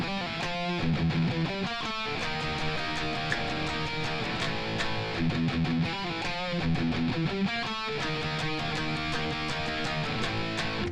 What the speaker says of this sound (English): this kind of a cool laid back lick that's got a little legato phrase in it